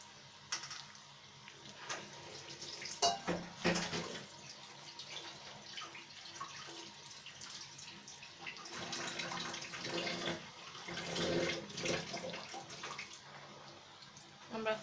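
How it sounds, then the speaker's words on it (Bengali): Water pours and splashes into a pan of egg curry, with a bubbling, running-water sound swelling and easing over several seconds, fairly quiet and close. "একটু পানি দিয়ে দিচ্ছি"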